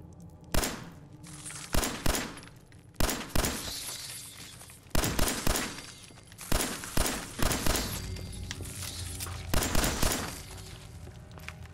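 Gunfire in Fallout 4 rings out in irregular bursts of loud, close shots, some single and some in quick pairs, each with a sharp crack and a short ringing tail, over a background of steady game noise.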